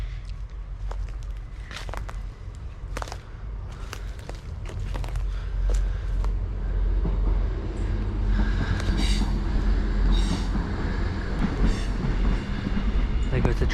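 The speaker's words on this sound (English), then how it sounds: "There goes the train." A train rumbles past an urban stealth campsite in the UK, with a steady low roar of wheels on rails, rising slightly as it nears, and scattered clicks and rattles throughout at moderate distance.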